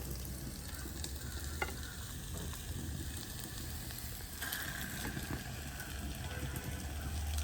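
Curry leaves hitting hot oil in a pan of frying cuttlefish curry, a steady dense sizzle with occasional stirring scrapes, close and continuous throughout, growing slightly brighter partway through.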